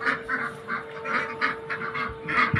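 Ducks quacking in a run of repeated calls at close range, with a steady hum in the background.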